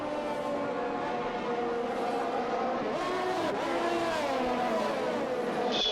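Formula 1 race cars in the F1 2021 video game at the Australian circuit, engines screaming in layered high-pitched whines that rise and fall through gear changes, several cars close together under steady race noise, no talking.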